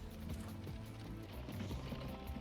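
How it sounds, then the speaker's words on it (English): A horse-drawn carriage moves along a road in a transport-simulation game, its hooves producing a steady, fairly faint clip-clop over a low rumbling background with no voices. "So our horse-drawn carriage going at a whopping 11 miles an hour is just about to come in now"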